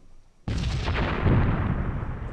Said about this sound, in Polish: Wstrzeliwanie środek kolumny. Rozkaz. Wystrzał.